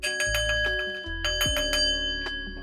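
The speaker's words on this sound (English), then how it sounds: "Wow, I gotta ring the bell for that." A small hand bell rung several times in quick succession, its bright ringing tones sustaining and overlapping, close and clear with no talking.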